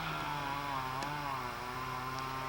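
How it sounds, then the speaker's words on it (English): A chainsaw whines steadily at a distance across a meadow and valley, its engine tone droning without pause across the open air. "You can hear a chainsaw across the meadow,"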